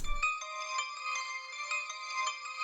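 A sustained bell-like metallic tone with bright ringing overtones from a rendered bell sample in FL Studio, holding steady with faint repeated shimmer, heard alone after a brief low thump.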